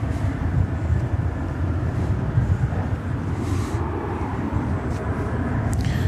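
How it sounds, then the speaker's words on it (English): A Boeing 737-800 airliner departing from DFW Airport on flight 1828 to Austin, a continuous deep jet roar holding steady from start to finish with a faint hiss above it. "Flight 1828 on its way to Austin, Texas. A 737-800."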